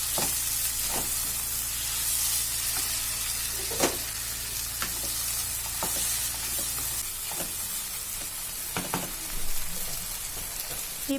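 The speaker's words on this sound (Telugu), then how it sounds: "ఇప్పుడు ఒక 2 పెద్ద టమోటాలను ముక్కలుగా చేసి దానిని కూడా యాడ్ చేసుకొని కొద్దిసేపు ఫ్రై చేసుకోవాలి." Chopped tomatoes frying in a pan for a brinjal and cashew curry, a steady hissing sizzle with scattered crackles and occasional spoon scrapes, close and fairly loud with no talk.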